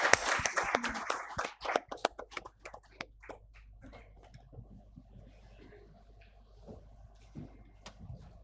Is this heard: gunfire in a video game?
no